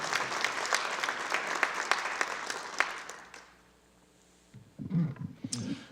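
Applause from the audience at a university distinguished alumni awards ceremony: sustained, dense clapping for about three seconds, then a quiet lull, and a brief fresh burst of clapping near the end.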